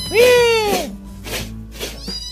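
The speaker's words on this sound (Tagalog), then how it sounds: "Tapos yung pusa natin, oh." A cat gives one loud, drawn-out meow up close, followed by a couple of fainter short sounds, with a person talking briefly nearby.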